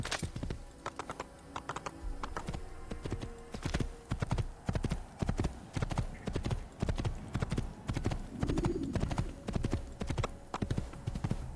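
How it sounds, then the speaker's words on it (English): Steady, rhythmic hoofbeats of a galloping horse in Assassin's Creed, close and fairly loud, with a brief whinny partway through. "My horse shows up if I run far enough away from it."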